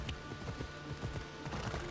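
Horse hooves pounding at a gallop in the video game Assassin's Creed Odyssey, a dense, steady clatter of hoofbeats with gameplay noise, moderately loud throughout the short stretch.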